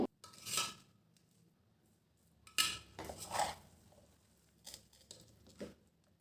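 Cooked peas pulao being stirred lightly in a pot with a spoon, giving a few soft scrapes and clinks spread out in short bursts, fairly quiet and close with no talking.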